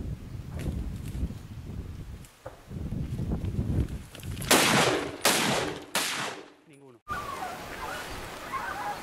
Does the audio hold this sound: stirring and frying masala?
no